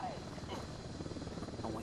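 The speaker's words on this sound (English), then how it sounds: "We got helicopters coming pretty close." Helicopters close in over a salt flat in Ghost Recon Wildlands, a faint low rotor thrum under a player's speech.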